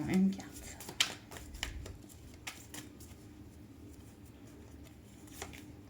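Tarot cards are shuffled and drawn nearby, giving soft flicks and sliding riffles with a sharp snap near the start, then light scattered card sounds over a quiet room.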